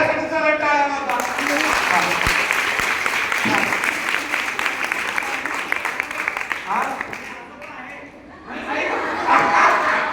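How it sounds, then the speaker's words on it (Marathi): An audience claps steadily at a motivational talk, the applause sustained and fairly loud throughout, dipping briefly near the end before swelling again, with a crowd murmur beneath it. "सरासाठी जरा टाळ्या मारा."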